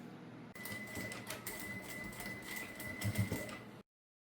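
Domestic sewing machine stitching bias binding onto a Nossa Senhora de Aparecida rosary holder, a steady close mechanical whir with rapid needle clatter running for about three seconds, then stopping abruptly.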